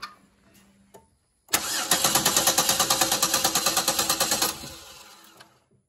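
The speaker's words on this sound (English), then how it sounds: "All right, we're going to go ahead and crank this over." A car engine with no spark cranks over without starting: a rhythmic, steady whirring of the starter for about three seconds after a click, close and loud, with no catch.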